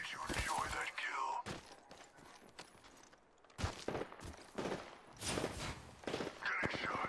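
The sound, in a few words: gunfire in a shooter video game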